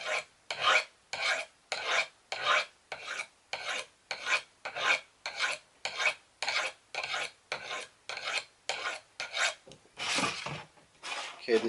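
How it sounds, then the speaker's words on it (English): A CRKT Crawford knife edge is drawn across a coarse sharpening rod in about twenty rhythmic, evenly spaced rasping strokes, close and crisp with short pauses between passes. "try how quickly can I bring the edge to usable sharpness again"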